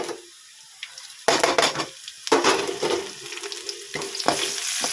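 Onions fry and sizzle in a hot pan, with sudden bursts of crackling as they are stirred, interrupted by short quiet gaps and clinks from the utensil, close and fairly loud.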